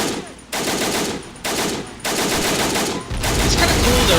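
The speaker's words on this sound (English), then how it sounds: "this MG gunner is still ripping it" Machine gun fire from an MG gunner in the war game Men of War: Assault Squad 2, long loud sustained bursts of rapid shots broken by brief gaps, with battle noise underneath.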